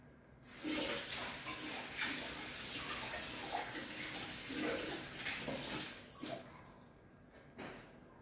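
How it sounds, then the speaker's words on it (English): Hands are washed at a basin as a tap runs, a continuous close splashing hiss of flowing water with brief changes as hands move under the stream, with no talking. "I'm going to wash my hand quickly here at the basin."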